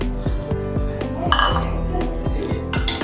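A metal spoon stirs chopped tomatoes, coriander, mint and green chillies for a chicken biryani, striking the pot in a quick, regular series of ringing clinks that carry through the whole stretch.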